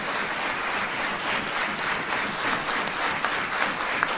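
Sustained, dense applause from an audience at an Indian gathering, loud and even throughout with a few sharper individual claps near the end.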